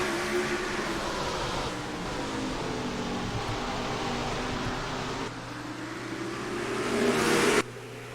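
Stock truck engines droning together at the start of the Old Dominion 250 at Martinsville in NASCAR Racing 2003, a loud continuous roar that swells as the pack accelerates, then drops abruptly near the end.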